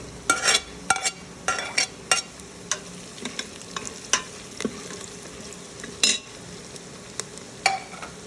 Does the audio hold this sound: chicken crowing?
no